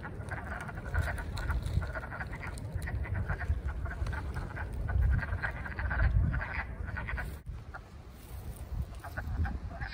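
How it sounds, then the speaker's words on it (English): A dense chorus of frogs croaks at a small hidden pond in the mountains, loud and continuous throughout, with many overlapping calls and no talking. "That's gonna be a lot of frogs."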